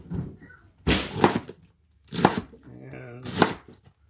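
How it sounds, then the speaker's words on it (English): A knife chops cabbage on a board in three main clusters of crisp, crunchy cuts, with fainter cuts in between, all close up. "So, cutting up my cabbage."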